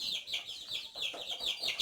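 Native hens clucking in a coop, a run of short, close, chattering clucks and squawks repeating in quick uneven bursts.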